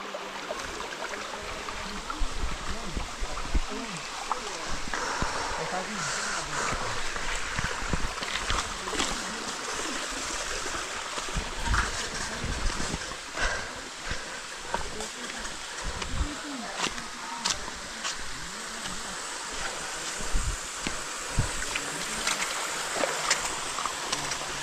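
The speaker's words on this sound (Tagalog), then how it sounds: "Mini Falls." A small waterfall pours steadily nearby, a broad continuous rush of flowing water with faint voices talking in the background over the roar.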